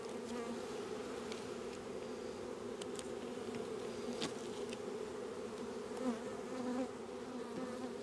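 Honey bees buzz steadily at an open hive, a dense continuous drone close by with a few sharper passes of individual bees flying near.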